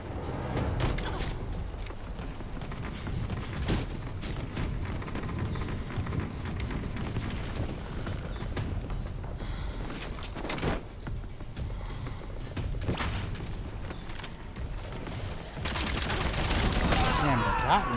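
Game gunfire from Metal Gear Online 3 in an online match, with scattered sharp shots and bursts over a dense, busy battlefield bed, plus a louder cluster near the end; speech is present throughout.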